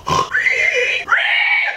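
A pig gives a short burst of close, loud oinking and grunting squeals, two nasal calls in quick succession.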